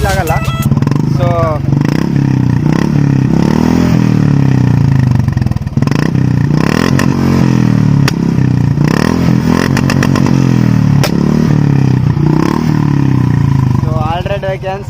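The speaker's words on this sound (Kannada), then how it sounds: "ಇದ್ರ ಬಗ್ಗೆ ಕೇಳಬೇಕು ಅಂದರೆ ಇಂಜಿನ್ ಹಿಂದ್ಗಡೆಯಿಂದನೇ ಕೇಳಬೇಕು" Royal Enfield Classic 350 motorcycle heard from behind at the exhaust, a loud thumping single-cylinder engine revved repeatedly with rising and falling pitch, close and dominant throughout.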